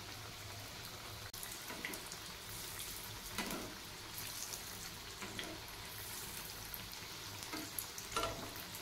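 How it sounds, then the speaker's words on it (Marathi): Vegetable cutlets shallow-frying in a pan, giving a soft continuous sizzle and crackle at low volume, with occasional brief clatters and scrapes near the pan. "कटलेट छान असे फ्राय करून घ्यायचे आहे"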